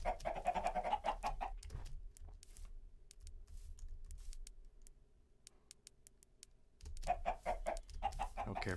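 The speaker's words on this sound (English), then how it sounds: "So done with these chicken." Chickens clucking in a modded Minecraft game, bursts of rapid clucks and squawks at the start and end with quieter ticking sounds between, fairly close and without talk.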